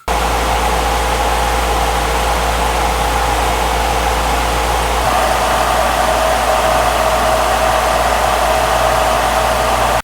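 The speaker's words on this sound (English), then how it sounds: "At mid speeds, the V10 is slightly louder." Steady whooshing fan noise from a laptop cooler running at mid speed, a constant close airy hum with a faint tonal whine that shifts slightly halfway through.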